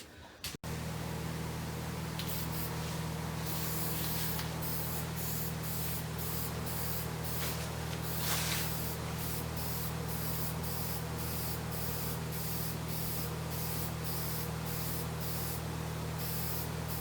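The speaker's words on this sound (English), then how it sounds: "we're going to squirt this with what's known as cast blast color. It looks like cast iron gray." Cast-iron gray engine paint sprayed from a can onto a 1965 Mustang engine in a garage: a steady close hiss runs almost continuously, broken by short pauses and restarts, over a low fan hum, with no talking.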